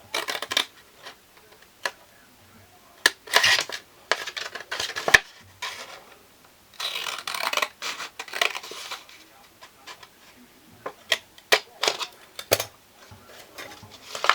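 Scissors cut a paper sewing pattern for a slash-and-spread dart alteration, giving quick crisp snips and rustling paper in irregular bursts, close by and fairly quiet, with brief pauses between cuts.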